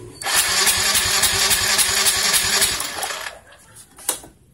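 An automatic scooter engine cranks on its electric starter, a fast rattling whir held for about three seconds before it cuts off, loud and close, followed by a brief click.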